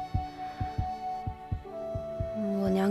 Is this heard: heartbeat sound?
yes